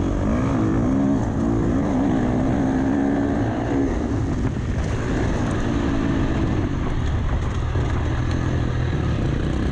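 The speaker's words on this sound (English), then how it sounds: "Bike actually pulls a bit of a wheelie under acceleration here" Racing motorcycle accelerating hard through a lap of an AMRA round at ACP, its engine note rising and shifting in pitch, loud and continuous with steady wind and road roar throughout.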